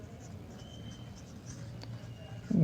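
Chalk or marker writing the gas equation on a classroom board, faint scratchy strokes over low room noise, ending with a louder knock.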